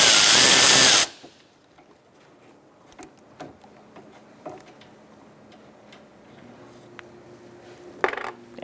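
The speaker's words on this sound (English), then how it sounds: "Using a 13 millimeter, we're going to remove the nut for this line." A 13 mm ratchet loosening the nut on an air conditioning line of a 2012-2018 Ford Focus, giving quiet irregular clicks and small metallic taps, after a brief loud burst at the very start.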